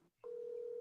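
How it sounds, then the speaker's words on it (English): A phone call placed to a burlesque performer in New Orleans gives a steady, unbroken electronic tone after a brief click, sounding clearly alone on the line. "It's ringing."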